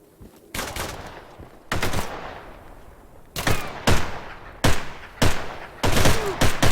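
Loud bursts of gunfire crack in clusters, rapid automatic volleys separated by brief pauses, close and sharp against a quieter background.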